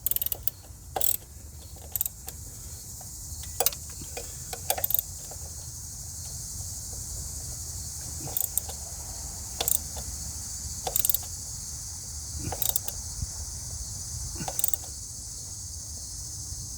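A ratcheting wrench clicks in repeated short bursts while tightening the engine pitch stop bolt on a 2018 Subaru WRX, close up over a steady background hiss.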